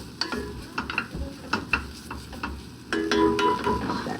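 Onions, jalapeños, bacon and tomato fry in a pan for black-eyed peas, a close sizzle broken by scraping stirs and clinks, swelling louder toward the end, with no talking.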